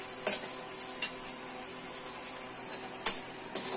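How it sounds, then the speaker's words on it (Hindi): Onion, ginger, garlic and green chilli frying in a pan for spicy masala pasta, giving a faint, steady sizzle broken by a few sharp stirring scrapes and clinks. "ये देखिए फ्रेंड, हमारा प्याज भून रहा है।"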